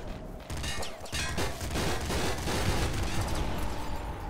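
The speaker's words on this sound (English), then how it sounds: "I can only hit with the Gatling Slugger now." Rapid, dense bursts of gunfire from the Gatling Slugger in Nuclear Throne, a loud, continuous rattle of shotgun-like blasts with scattered impacts and game effects over several seconds.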